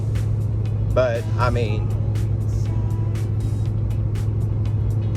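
A car drives along a winding road in Mexico, its steady low engine and road rumble running continuously beneath someone talking throughout.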